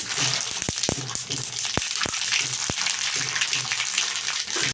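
Whole mustard seeds splutter in hot mustard oil, a loud continuous sizzle crowded with dense crackling and several sharp pops, close up and with no voices.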